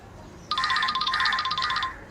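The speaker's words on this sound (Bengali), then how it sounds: "পাশের টেবিলে চার্জে বসানো মোবাইলটা বেজে উঠল" A mobile phone charging on a nearby table starts ringing, a bright repeating electronic ringtone that begins suddenly and carries on steadily, fairly close and alone.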